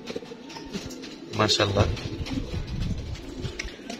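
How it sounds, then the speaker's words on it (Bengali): Pigeons gathered on top of a loft cage coo softly in the background. A louder burst rises briefly in the middle while someone talks over them throughout. "এখানেও কিছু কবুতর মস্তি করতেছে খাঁচার উপরে"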